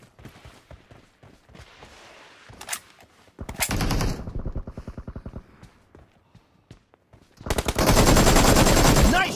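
Gunfire in a multiplayer team deathmatch shooter game: loud bursts of rapid automatic fire come in several runs, with single shots and the final long burst being the densest. Brief talk and footstep-like thumps sit between the bursts.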